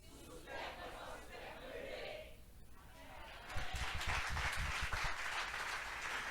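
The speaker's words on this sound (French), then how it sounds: "Tu acclames frénétiquement." A church congregation cheers and acclaims loudly during a service, a dense mix of shouts, whoops and applause that grows louder partway through, with a voice speaking over it.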